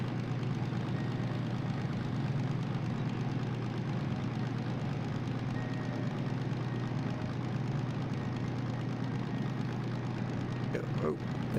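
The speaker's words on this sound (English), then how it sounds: "In fact, I kind of hear promising sounds from the engine." DM3 diesel locomotive in Derail Valley, a steady low engine drone running continuously at moderate level, with no talk over it and a few faint clicks near the end.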